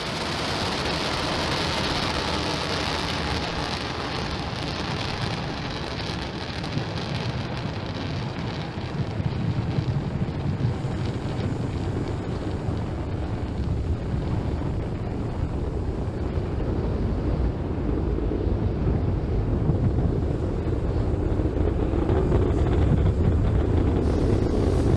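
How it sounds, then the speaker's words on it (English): SpaceX Falcon 9 rocket lifting off on a Starlink satellite launch, a continuous distant broadband roar and rumble, like wind, that swells louder and rougher as it goes on. "Ignition. And liftoff. Falcon 9 is pitching downrange."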